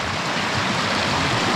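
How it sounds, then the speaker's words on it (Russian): Loud, continuous roar of river water surging through a broken beaver dam, a dense, unbroken rush with low gurgling underneath and nobody speaking. "Бешеный расход воды."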